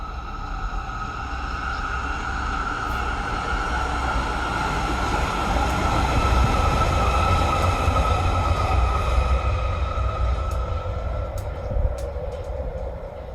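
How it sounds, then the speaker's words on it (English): A train rumbles past steadily, a continuous low roar with metallic hum and faint squeals, fairly close and sustained throughout. "Pause for the train."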